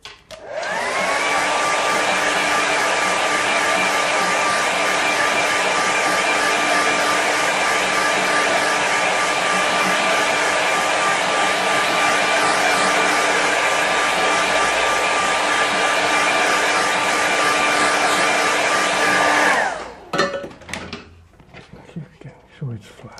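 A hair dryer blows steadily on a watercolour seascape painting for about twenty seconds, a loud close whine with a constant pitched tone, then cuts off into brief handling clatter.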